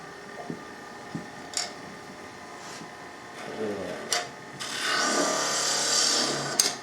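Small wooden box being hollowed on a lathe, with scattered sharp scrapes and ticks of the tool giving way to a sustained rough cutting hiss near the end, close and moderately loud.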